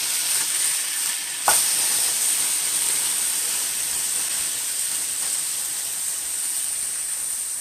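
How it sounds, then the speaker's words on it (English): Turkey burgers sizzle on a Blue Diamond pan greased with coconut spray, an even, bright hiss of frying and steam heard up close, with one sharp click early on and no talking. "Onto the fire. Sizzle, sizzle."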